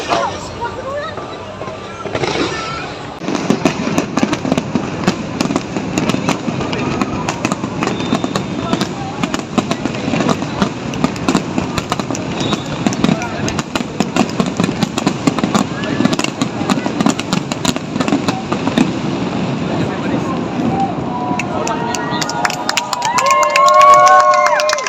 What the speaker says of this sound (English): malam ini kita datang hanya untuk melihat firework yang diluncurkan pukul